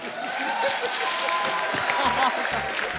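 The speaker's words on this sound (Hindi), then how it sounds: "जोरदार ताली हो जाए।" A television comedy show audience breaks into applause, a broad wash of clapping that runs the whole time, with people talking and laughing over it.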